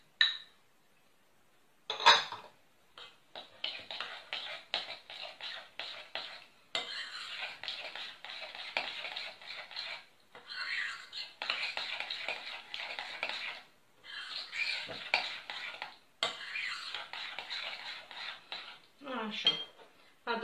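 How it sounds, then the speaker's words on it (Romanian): A spoon stirs crystallized honey, sugar and other ingredients together in a bowl for sweet bread dough, giving steady close scraping and clinking strokes with a few short pauses and no talk. "Amestecați bine toate ingredientele până se topește zahărul."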